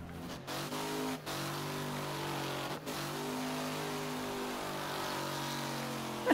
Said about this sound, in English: That was a nice little long drift.